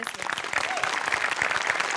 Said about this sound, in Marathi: आपल्या सगळ्या टीमसाठी आपणच एकदा टाळ्या वाजूया